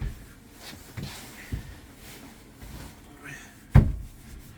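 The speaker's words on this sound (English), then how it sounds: "The kitchen drawers on that side are all the same push style latch to keep them closed during transit, as well as this cabinet door here." A push-latch cabinet door in a camper is handled, giving a few soft knocks and then one sharp clunk near the end, heard close amid quiet room sound.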